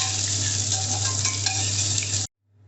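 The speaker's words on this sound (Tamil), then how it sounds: "வெங்காயம் கொஞ்சம் வதங்கிருச்சு." Onion and capsicum sautéing in a pan for chilli chapathi, a steady close sizzle with faint stirring scrapes for about two seconds, then cutting off abruptly to near silence.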